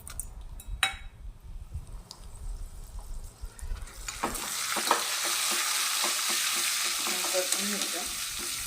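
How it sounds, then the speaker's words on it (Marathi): Dried red chillies sizzle in hot oil in a small kadai while a tempering is made for dal; after a quieter start with a few clinks, a loud, steady frying hiss takes over, with scattered crackles and spatula scrapes. "आता मी छोट्या कढईत तेल घेतले. थोडी फोडणी देऊन घेऊया डाळीला."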